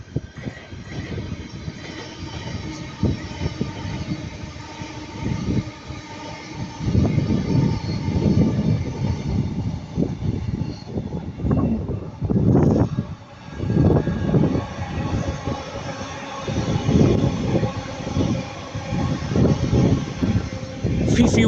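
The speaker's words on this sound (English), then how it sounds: "passing by that's going to be Northern Class 331 going from Over the Edge to Manchester Piccadilly" A Northern Class 331 electric train passes by at Ardwick, a broad rumble and whine that swells and fades over the clip, fairly close, with occasional voices under it.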